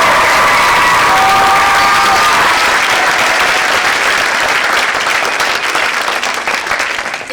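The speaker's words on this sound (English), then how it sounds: "Give them one more round of applause." A school audience applauds a fifth grade play at Bolles Lower School's Whitehurst Campus with loud, sustained clapping mixed with cheers, tapering slightly toward the end.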